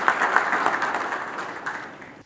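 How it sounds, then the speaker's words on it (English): Audience at a business plan competition grand finale applauds sponsors. Dense clapping starts strong, then thins and fades out over about two seconds. "Would you please give them a round of applause so they continue to support us?"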